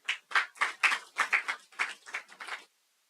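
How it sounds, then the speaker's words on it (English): Sparse, quiet clapping from a small community audience at the launch of the Longville Park community Wi-Fi in Jamaica, a short run of separate claps lasting a couple of seconds before it stops. "give them a round of applause"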